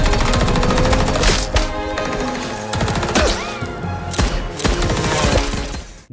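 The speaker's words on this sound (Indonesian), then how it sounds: "terlihat Mamang Sei datang sembari menembak para anak buah Finn yang terus berdatangan" Gunfire in an action film scene as a gunman shoots at arriving henchmen: loud, dense bursts of rapid automatic shots with heavy impacts, nearly continuous throughout.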